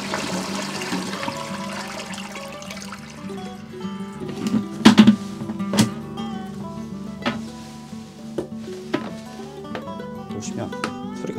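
A newly installed toilet's tank refills with a steady hiss and trickle of running water, with occasional clicks and knocks over it, while people talk throughout nearby.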